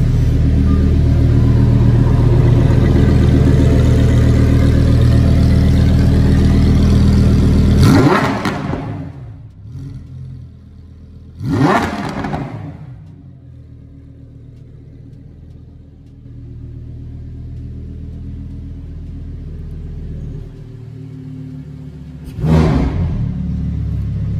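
A Lamborghini Huracan Evo Spyder with Novitec exhaust rumbles loud and deep at close range, then drops away, followed by a few sharp revving blips separated by quieter idle.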